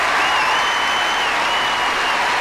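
An arena audience gives a dense, loud, sustained round of applause for an ice dance performance by Torvill and Dean, the clapping continuous and even with no pauses.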